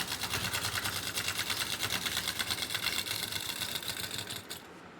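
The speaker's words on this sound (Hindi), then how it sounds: "अब हम इसमें पूरे में सिलाई लगा देंगे।" A sewing machine hums and rattles continuously at close range while stitching the side slit panels of a kurti, running at an even pace before cutting off near the end.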